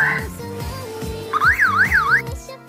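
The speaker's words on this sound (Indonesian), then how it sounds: "Smart Door Lock sudah dilengkapi dengan fitur alarm jika ada orang asing yang berusaha membuka pintu" Electronic intruder alarm from a smart door lock, triggered when a stranger tries to force the door open: a loud, close siren rising and falling in rapid sweeps, preceded by a pulsing electronic tone, with no talk.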